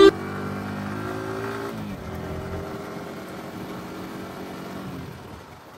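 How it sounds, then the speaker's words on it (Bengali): Motorbike riding on a mountain road from Bogalake to Keokradong, its engine droning steadily and loudly close by, the pitch easing and settling lower partway through. "আমি পিছনে একা একা বাইক রাইড করতেছি।"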